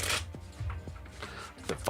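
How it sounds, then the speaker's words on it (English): Tarot cards being shuffled close up, a few short papery riffles and soft slaps spaced unevenly across a couple of seconds, fairly quiet. "the final shuffle"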